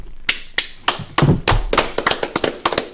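A church congregation claps hands, beginning with a few sparse, sharp claps that quicken into an irregular, fairly close patter of claps from several people.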